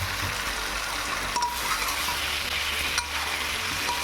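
Mutton frying in spiced oil with a whole garlic bulb, a loud steady sizzle close up with occasional utensil scrapes and clinks against the pan.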